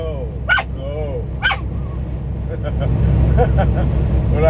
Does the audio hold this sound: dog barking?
yes